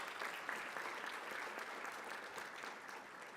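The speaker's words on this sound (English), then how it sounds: "Let's give him another round of applause." Steady applause from an audience at a conference plenary session, a dense wash of clapping that holds at an even level throughout, with no voices rising above it.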